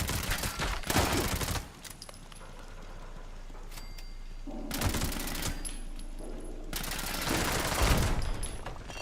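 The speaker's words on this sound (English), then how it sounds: "That turret opening fire while we're still locked in dialogue was kind of shitty." An automated turret in the Fallout 76 video game opens fire in loud bursts of rapid gunfire, separated by quieter stretches of hum and mechanical noise.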